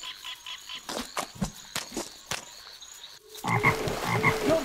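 Frogs croak in The Princess and the Frog video game. A run of sharp, repeated croaks comes first, then a denser, louder chorus of croaking takes over toward the end.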